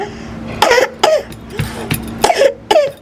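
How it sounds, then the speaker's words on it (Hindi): A child coughs in several short, wet bursts spaced across a few seconds, close to the listener, with a low background hum between coughs. "अब इसकी खांसी तो गंदी वाली लग रही है मुझे।"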